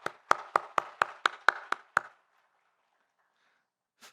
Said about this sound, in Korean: 우리 잠깐 자리에서 일어나시면 우리 축하 박수하도록 하겠습니다.